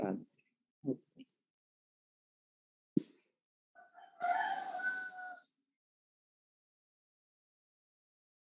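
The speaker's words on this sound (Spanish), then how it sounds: "Wilmer tiene el gallo cantando." A rooster crows once, clear and fairly close, between brief knocks and other short sounds in an otherwise quiet space.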